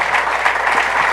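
A lecture audience applauds a speaker at the end of a talk about Facebook and elections, a full, dense burst of many people clapping, loud and continuous throughout.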